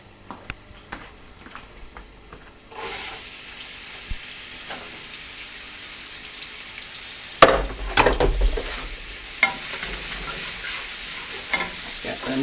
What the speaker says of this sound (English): Onions in first.